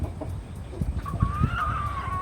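Australorp chickens cluck softly in short bursts, with one drawn-out call rising above the low background of farmyard noise.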